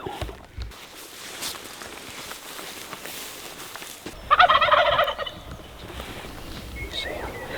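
Wild turkeys gobble outdoors in South Dakota during a spring hunt, one loud, close rattling gobble bursting out midway amid faint rustling and breezy field ambience.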